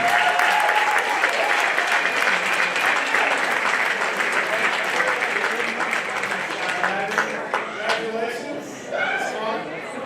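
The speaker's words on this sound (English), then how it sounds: "Big round of applause for the hockey team." An audience at a high school gathering gives the hockey team a steady round of applause, dense clapping lasting about ten seconds and tapering slightly near the end.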